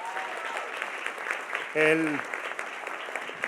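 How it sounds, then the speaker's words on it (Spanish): An audience at a Lebanese film festival talk applauds with continuous, moderately loud clapping from a crowd. A brief spoken word cuts through partway. "Por favor, denle un gran aplauso."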